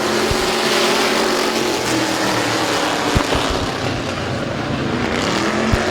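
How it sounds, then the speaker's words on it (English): Street stock race cars roaring off the start of an eight-lap heat race at Midvale Speedway, a loud continuous wall of engine noise from several cars with a few sharp knocks. "8-lap heat race for the street stocks. Green flag in the air."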